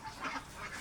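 Ducks on a small duck farm give a brief burst of quacking and honking, close and moderately loud, lasting under a second.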